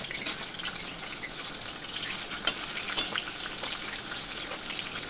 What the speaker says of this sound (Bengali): সর্ষের তেলটা গরম হলে মাছগুলো একে একে ভেজে নেব, পুরো রান্নাটা সর্ষের তেলেই করব।